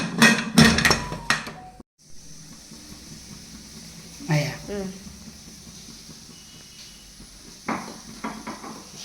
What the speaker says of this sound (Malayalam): ഇനി നമുക്ക് ഇത് കുക്കർ അടച്ചു വെച്ചിട്ട് ഇത് നല്ല വേവിക്കാം.